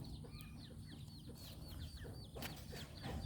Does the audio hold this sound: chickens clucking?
yes